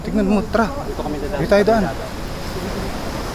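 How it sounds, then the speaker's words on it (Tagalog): Noisy sea waves washing against a seawall at night at an abandoned resort, a steady roaring wash of surf beneath people talking nearby, then continuing alone. "Maingay ang dagat ngayon."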